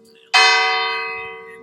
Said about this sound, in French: On va attendre que la cloche finisse de sonner.